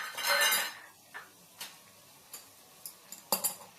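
A coriander mixture with turmeric, red chili powder and green chili-garlic paste is stirred in a pan. A brief scraping stir is followed by scattered light clinks of a utensil against the pan, close and alone.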